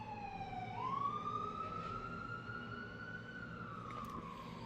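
A loud wailing siren rises and holds a long steady tone, then dips slightly, sounding continuously throughout with no other sounds.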